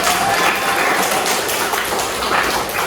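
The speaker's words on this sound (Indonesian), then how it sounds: "Kita tepuk tangan dulu." Children in a classroom clap together for a classmate, a dense, loud burst of applause filling the space for a few seconds with no talking over it.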